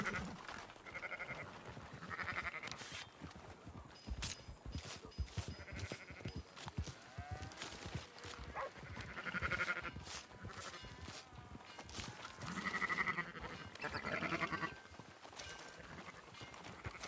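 Several in-game sheep bleat repeatedly in Red Dead Redemption 2, alongside clip-clopping hooves and faint ambient farm noise, with the bleats fairly distant and scattered across the scene.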